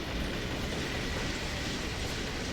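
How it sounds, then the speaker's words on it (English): In Half-Life 2 MMOD, a train rolls by as a steady, loud wash of rumbling wheels and rail clatter, unbroken and without voices. "Oh boy, a train."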